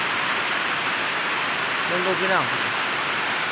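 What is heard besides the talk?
rain falling during rice-farming season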